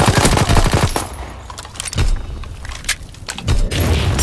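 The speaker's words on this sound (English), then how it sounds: "Enemy bomb incoming! Get to cover!" Loud bomb explosions and rapid bursts of gunfire in a World War II video game, with a dense, booming barrage of shots and heavy thuds.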